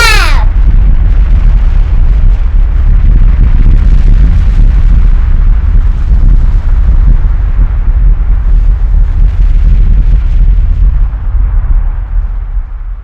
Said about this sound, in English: Erupting volcano. Wow, that's super loud.